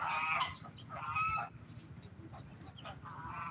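Geese honking in a few loud, nasal calls with short gaps between them, fairly close, with softer bird sounds in the background.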